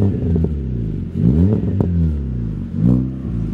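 A Peugeot 307 1.6 engine idles and revs unevenly, with occasional sharp pops and crackles from the exhaust breaking through the low rumble.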